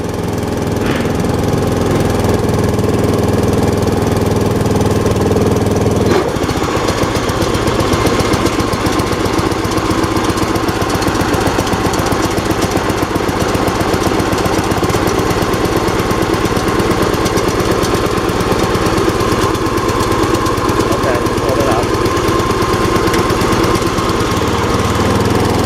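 An MTD riding lawn mower tractor engine runs steadily on choke after sitting unused, a loud close rumble with a rough knocking texture and a brief shift in tone early on, with no talking.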